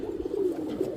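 Sapchila pigeons coo in a steady, low, throaty murmur that rolls on continuously with soft swells, close by and with no voices.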